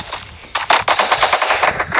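AK rifle fire in a shooter video game: rapid automatic bursts of sharp, close gunshots crackle in a quick rhythm, loud and without voices.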